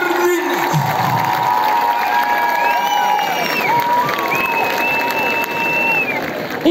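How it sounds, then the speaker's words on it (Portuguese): Concert crowd at an outdoor seaside festival in Madeira applauding and cheering for a band's guitarist, with sustained clapping, whoops and high shouted cheers rising over a steady roar, loud and close throughout. "queríamos também que vocês dessem a salva de palmas para o nosso guitarrista"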